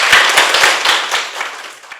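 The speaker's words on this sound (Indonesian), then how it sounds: "Tepuk tangan untuk Tiara." A classroom of students claps for a classmate, a burst of sharp, close hand claps that starts ragged and dense, then thins and fades over two seconds.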